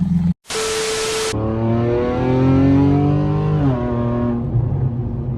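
A 2014 Audi RS5 with bad fuel injectors drives on a road test, its engine and exhaust burbling as revs rise and fall, loud and close after a brief burst of broadband noise at the start.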